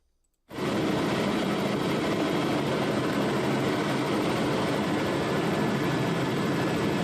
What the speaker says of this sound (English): Tom Cruise posted this little 13-second behind the scenes of him hanging from that goddamn airplane.